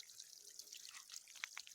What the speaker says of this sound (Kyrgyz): мына ушундай 20лык шлангага тамчылаткыч орнотуп ачып койдум